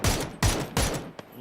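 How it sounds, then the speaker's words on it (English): Three loud, evenly spaced bursts of gunfire ring out in PUBG competitive play, each followed by a short decay, and then comes a fainter single crack. "that's good shooting there, Fex."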